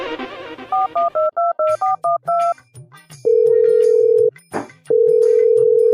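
Telephone keypad tones beep out a number in a rapid series of short, even presses, then a long steady ringback tone sounds twice with a brief gap between, loud and close.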